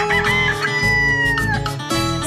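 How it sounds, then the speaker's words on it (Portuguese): A rooster crows loudly and close by at a chicken breeder's farm among many breeds of hens and roosters, one long drawn-out call over a busy background of other fowl. "Entre tantas variedades de galos e galinhas aqui da coleção do Mário"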